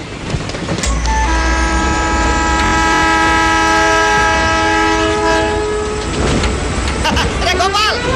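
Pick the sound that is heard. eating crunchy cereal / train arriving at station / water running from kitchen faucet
train arriving at station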